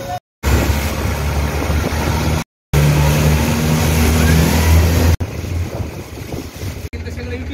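A boat engine runs at full speed on water in Thailand, a loud, steady low drone with wind buffeting the microphone and brief dropouts.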